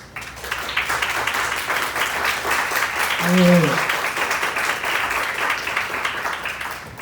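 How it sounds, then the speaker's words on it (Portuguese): A church congregation applauds during a worship service, continuous dense clapping at steady volume, with a brief voice rising over it near the middle. "Você pode aplaudir o Senhor?"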